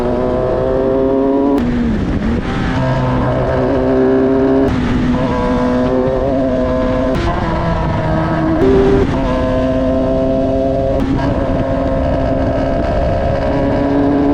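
A loud F1000 race car engine drones continuously, its pitch climbing and dropping in repeated uneven surges as it bogs below 6,000 rpm from a broken secondary throttle position sensor wire, heard from onboard.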